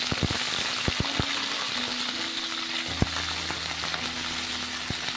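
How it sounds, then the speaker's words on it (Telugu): Washed okra sizzles and fries in a little oil in a pan, a steady crackling hiss with scattered sharp pops and stirring knocks, close and continuous with no talking. "కొద్దిగా నూనె పోసుకొని ఈ కడిగి పెట్టుకున్న బెండకాయలు ఇందులో వేసుకొని"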